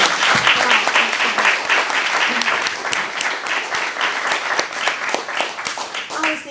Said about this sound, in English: Can you give a round of applause to this great panel?